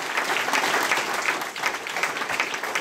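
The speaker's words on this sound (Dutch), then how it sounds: "Heel groot applaus" A crowd applauds steadily, a dense, even wash of clapping from start to finish.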